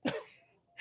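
One quick, sharp sneeze from a person, a single close burst that stops abruptly and is followed by a brief pause.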